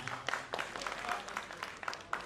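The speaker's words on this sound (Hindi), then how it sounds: "इमरान साहब, आपके आने से तालियां बज गई" Light, scattered applause from a small audience greeting a guest, soft and steady clapping.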